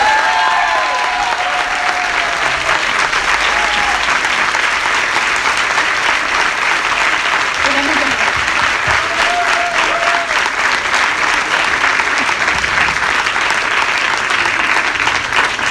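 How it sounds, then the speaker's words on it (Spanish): A large audience at a political event breaks into loud, sustained applause that holds steady for about sixteen seconds, dense and continuous with occasional whistles or shouts mixed in. "pido un aplauso."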